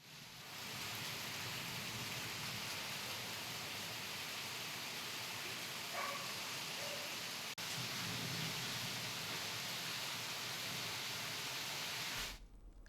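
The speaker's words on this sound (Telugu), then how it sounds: "హైదరాబాద్లో కుండపోత వర్షం కురుస్తుంది." Heavy rain pours steadily over Hyderabad as a dense, continuous hiss. It stays loud and even for about twelve seconds, then cuts off abruptly, with no voices.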